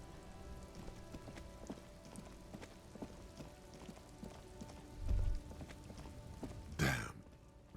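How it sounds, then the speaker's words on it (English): Steady rain patters in the video game Disco Elysium, a continuous soft hiss with scattered drip-like taps, briefly joined by a low thump and a louder rushing burst near the end. "Stuck in the rain in a traffic jam"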